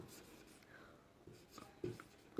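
Pen on paper while noting a percentage in a maths class, with faint, close scratchy strokes and soft taps in a quiet room and no talking.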